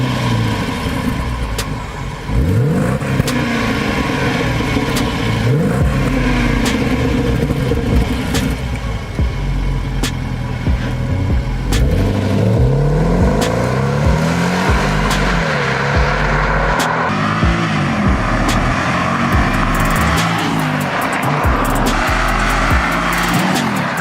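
A 2012 Jaguar XF Portfolio on a drive: engine noise and road rumble with repeated rises and falls in pitch as it accelerates and shifts, loud and continuous, with no talking.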